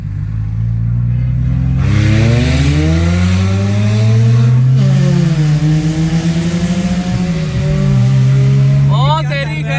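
A racing car accelerates hard with a loud, close engine whose revs climb and fall through several gear shifts, a second engine whining in at the end, with voices partly under the roar.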